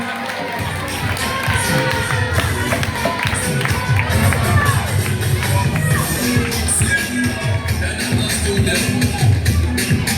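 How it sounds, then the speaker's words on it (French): Crowd at a school cultural day cheering and shouting for a student, a loud continuous roar of young voices with scattered claps and shuffling throughout. "sous les applaudissements s'il vous plaît"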